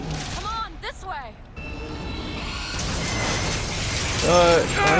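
Explosions in the video game Bioshock Infinite build into a swelling, rumbling blast and debris wash, mixed with in-game voices talking.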